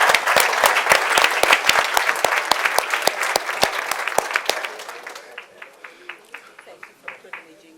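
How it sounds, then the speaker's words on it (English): Book launch audience gives a burst of sharp, dense clapping that thins out into a few scattered claps over several seconds, with some talking beneath it. "and a round of applause"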